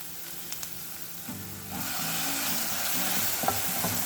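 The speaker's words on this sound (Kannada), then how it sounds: "ಇದೊಂದು 30 ಸೆಕೆಂಡ್ಸ್ ಫ್ರೈ ಮಾಡೋಣ. ಟೊಮೆಟೊ ಕೂಡ 30 ಸೆಕೆಂಡ್ಸ್ ಫ್ರೈ ಮಾಡಿಕೊಂಡೆ." Onion and tomato fry in a hot pan for a corn and spinach sandwich filling: a soft hiss swells into a steady, loud sizzle after a second or two, with a few faint clinks of stirring and no speech.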